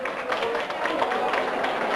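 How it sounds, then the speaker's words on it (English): A festival crowd at the 1990 Feenagh Festival applauds the band, giving a short, steady burst of clapping heard as a continuous wash of sound. "Another round of applause for the band"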